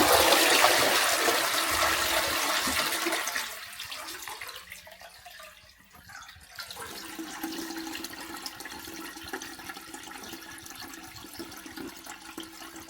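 A newly installed WC toilet cistern flushes with a loud rushing surge of water that fades into softer trickling and refilling, with no talk.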